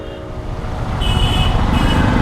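Road traffic heard from a motorcycle, a loud steady rumble of passing vehicles that grows louder, with high engine whines and no talking.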